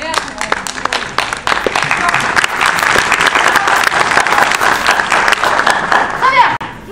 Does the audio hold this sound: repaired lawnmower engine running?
no